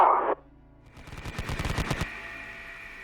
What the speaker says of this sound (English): fire its HMGs at the Schreckwolfen